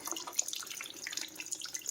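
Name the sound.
fluid draining out of a Volvo V70R during intercooler install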